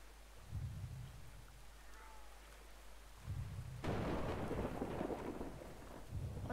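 In the video game Brothers: A Tale of Two Sons, a thunderstorm rumbles in deep, repeated low bursts while a steady wash of rain falls, growing heavier and louder toward the end.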